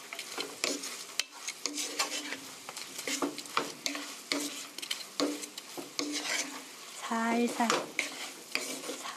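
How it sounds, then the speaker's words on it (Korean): Chicken pieces and garlic stirred together in a pan for sweet garlic chicken, with a steady scraping, clattering stir over a soft sizzle, spoon strikes against the pan recurring close and fairly loud throughout. "고루 섞어주세요."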